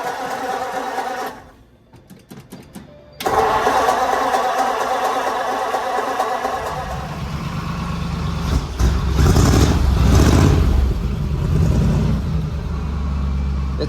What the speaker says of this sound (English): Finally got oil in the transmission so we can actually start it and see what this exhaust system sounds like.